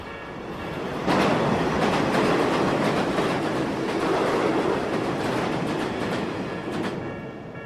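A train rumbles past close by, its wheels clattering over the rail joints in a steady rhythm that swells and then slowly fades.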